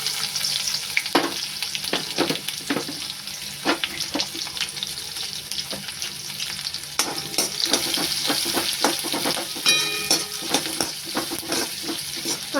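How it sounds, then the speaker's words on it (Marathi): Chopped onion frying in a pan with garlic and cumin, a dense continuous sizzle close by, punctuated by frequent sharp scrapes and knocks of a spoon stirring against the pan. "कांदा व्यवस्थित लाल होईपर्यंत भाजा."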